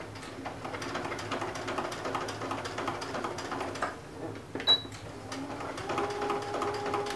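A sewing machine stitching and backstitching across the end of a boxy zipper pouch, a soft rapid mechanical whir that runs steadily, pauses briefly, then starts again, heard fairly close in a quiet room.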